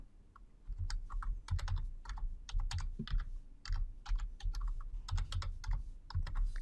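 Rapid, close clicking of a computer keyboard as a database query is typed, keystrokes arriving in quick irregular bursts with short pauses, while a voice speaks briefly partway through.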